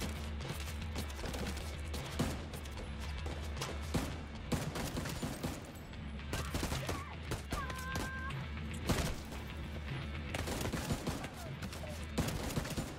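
A heavy-duty gun in The Division 2 fires in rapid, repeated bursts of sharp reports with thuds and impacts scattered throughout, the battle racket steady and fairly close; a voice speaks now and then.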